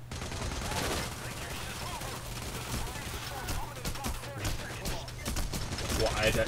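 Rapid gunfire crackles through Payday The Heist, dense bursts of automatic shots and scattered single cracks over a low steady hum, fairly loud and continuous, growing busier toward the end.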